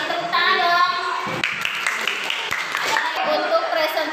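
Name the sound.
classroom applause, clapping hands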